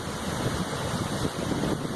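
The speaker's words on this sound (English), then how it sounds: "an actual waterfall, which is absolutely mind-blowing" Steady rushing water roars close by from a waterfall on a walk in the Yorkshire Dales, a continuous broadband wash with wind buffeting the microphone and no talk.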